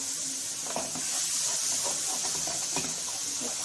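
Mushrooms and meat for beef piccata with soy sauce sizzling and being stirred in a hot pan, a constant loud frying hiss close up, with scraping stirs and soft clicks of the utensil against the pan.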